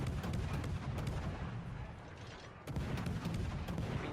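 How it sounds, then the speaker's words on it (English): Battleship gunfire in World of Warships Legends, a dense, continuous barrage of booming shots in a loud rumbling wash, with a heavier burst near the end. "just keeping up that nasty barrage of fire on him."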